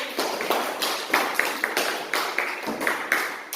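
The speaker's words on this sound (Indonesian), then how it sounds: "Tepuk tangan untuk kelompok 1." A classroom claps for a discussion group after its report, a small group producing sharp, patterned claps in short bursts with a lively indoor echo and no talking.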